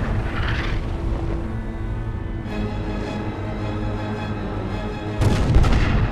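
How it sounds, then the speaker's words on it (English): Deep booming artillery blasts from a battleship's forward gun crew firing a final salvo as the ship sinks, heavy rumbling reports with a louder burst near the end, no voices. "As the Hood sinks, the forward gun crew heroically fires a final salvo."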